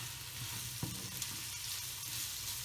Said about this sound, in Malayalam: സവാള വഴറ്റാൻ വെച്ച് നന്നായി വഴന്ന് വന്നിട്ടുണ്ട്